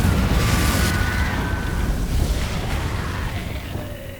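A Confringo fire blast spell in Hogwarts Legacy lands as a loud, sustained booming roar that fills the whole stretch, strongest at the start and slowly thinning out.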